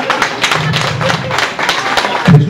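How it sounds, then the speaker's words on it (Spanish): An audience at a live show in a Mexican grill claps in a short burst of scattered, steady applause with some thumps, fairly close. "Un aplauso para Jesús."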